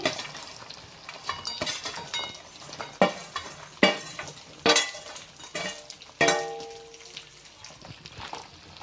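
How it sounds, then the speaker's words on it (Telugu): Pre-fried chicken pieces tossed into hot oil with ginger and garlic, with sharp bursts of sizzling and metal spatula clanks against the pan as they are stirred, close and intermittent, no talk. "మనం ముందుగా వేయించి పెట్టుకున్న చికెన్ పీసెస్ ఇందులో వేసుకోవాలండి"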